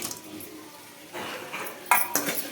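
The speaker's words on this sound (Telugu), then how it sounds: "ఈ సాసులన్నీ మనకు ఈ చికెన్ ముక్కలకు పట్టేటట్లు బాగా కలుపుకోవాలండి" A spatula scrapes and clinks against a pan as fried chicken pieces are tossed with sauces for chicken majestic, soft stirring followed by a few sharp metallic knocks, close by.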